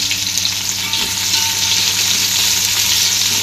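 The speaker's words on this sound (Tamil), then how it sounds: "வெங்காயம் நல்லா வதங்கட்டும்." Three large onions, sliced lengthwise, frying in oil for a chicken biryani, giving a steady, loud, continuous sizzle with faint stirring throughout and no voices.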